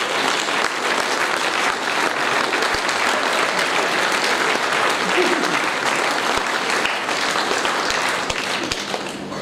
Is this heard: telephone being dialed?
no